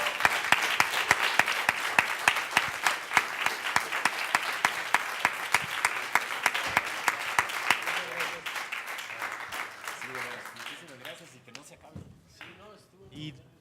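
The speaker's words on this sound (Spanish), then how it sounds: "Les pido un aplauso para los expositores" Audience members at a talk applaud the speakers with a sustained round of crisp, rhythmic clapping that thins and fades after about ten seconds, giving way to a voice speaking over the last few claps.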